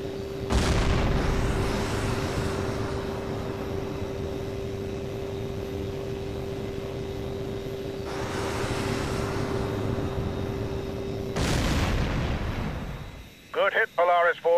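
Fighter jets firing heat-seeking missiles in H.A.W.X 2, a steady jet engine drone broken by whooshing missile launches and booms, with a radio voice speaking briefly at the end.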